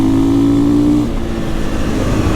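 A 2021 KTM EXC-F 500 with sumo wheels revs hard on a first test ride, a loud close engine note that drops off halfway and then keeps droning at lower pitch.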